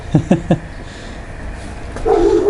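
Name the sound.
dogs barking and whimpering in the background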